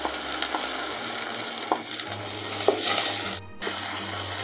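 Chopped onions sizzle lightly in a pan while being cooked for a hilsa roe dish. The steady frying hiss is broken by occasional sharp clacks of a spatula stirring them.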